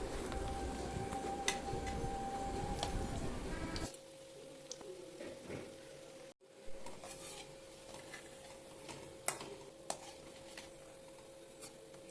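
Lentil balls fry in oil in a pan, with soft sizzling at first, then scattered clinks and scrapes of a utensil as they are turned, fairly quiet and close.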